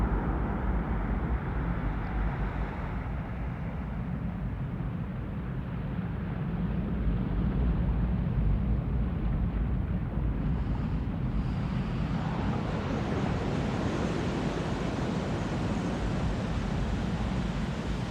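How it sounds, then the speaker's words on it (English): Steady roaring wind and ocean-like surf wash with no voices, loud and constant from start to end, a broad rushing roar that swells slightly partway through. "It's like an ocean. Yeah, like water and wind."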